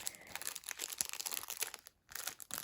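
Close, crisp crinkling of plastic packaging, irregular rustles and crackles with a brief pause near the end before more handling.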